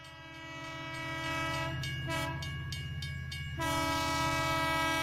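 A train horn blares in long sustained chord-like blasts over a rumbling train, loud and close, with a short break in the middle before the horn resumes.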